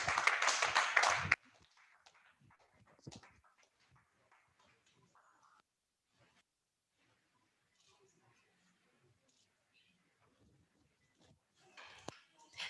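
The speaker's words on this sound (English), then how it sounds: "Please, a round of applause once again" Applause from an audience after an award presentation at a university media parley: a loud burst of clapping that stops abruptly, quiet scattered sounds, then a second round of clapping rising at the end.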